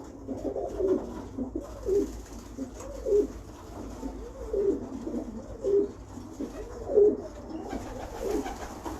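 Pigeons coo repeatedly in a steady, rolling rhythm at a pigeon breeder's loft, the soft throaty calls close and clear over a low background hum.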